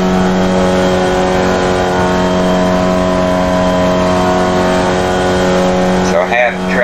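Formula Vee race car in iRacing at Lime Rock held flat out at full throttle in fourth gear, a loud steady droning engine note that stays constant throughout before a brief wavering at the end, with a voice talking over it.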